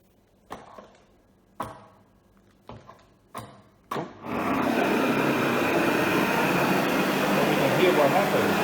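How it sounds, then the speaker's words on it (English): A ducted central vacuum kick-plate vac pan starts after a few sharp knocks and then runs as a loud, steady rushing suction, close by. "You just kick that lever on the vac pan."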